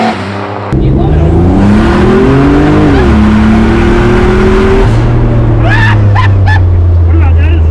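A turbocharged all-wheel-drive S10 Syclone truck accelerates hard and close, its engine note climbing through high RPM, dipping with a shift and pulling again, while people talk and exclaim over the roar.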